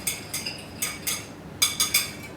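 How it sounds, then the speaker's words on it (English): Dry ingredients of all-purpose flour, baking soda, salt and baking powder whisked together in a bowl for peanut butter cookies, giving a series of close, light metallic swishes and clinks in quick bursts, with no talk. "We're just going to whisk all those together."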